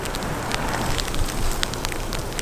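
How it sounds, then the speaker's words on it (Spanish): Hail falling in sub-zero Canadian winter weather, a dense close crackling patter of small pellets that stays steady and fairly loud throughout, with a sharper cluster of hits at the very end. "Esto es granizo, esto es puro granizo."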